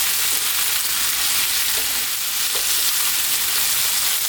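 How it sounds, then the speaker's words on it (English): Beef and eggplant stir-fry over high heat in a wok, a loud, dense, continuous sizzle with faint scraping from constant stirring, close up and with no talking. "3 to 4 minutes, stirring pretty much all the time now,"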